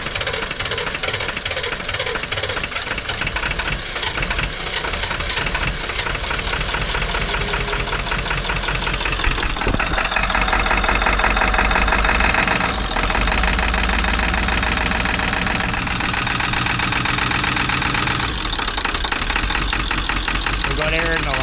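A 1996 Ford E350 with a 7.3L Powerstroke diesel runs rough with air in the fuel lines, giving a loud, steady knocking clatter that stumbles and surges throughout, with voices faintly underneath.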